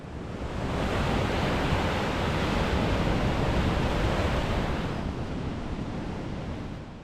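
Ocean surf washes steadily along a coastal walking trail beside the East Sea shore near a small harbor, a broad continuous roar of waves with some wind, loud and close throughout, easing slightly toward the end.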